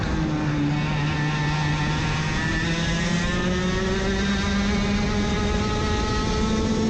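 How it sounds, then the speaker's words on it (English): Racing karts at the Calspeed Summer Shootout 2021 kart race give a loud, continuous engine drone on the track. The steady harmonic whine slowly rises in pitch with no break. "Mata now within a kart length of Phillipsen."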